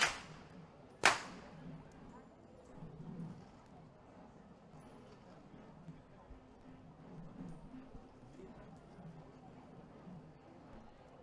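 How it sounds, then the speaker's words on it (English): A whip cracks during the Kandy Esala Perahera 2022 third Kumbal procession. One sharp, loud crack comes just after a fainter snap at the start, over a murmuring crowd background. "the sound of the whip cracking depicts the sound of thunder and lightning"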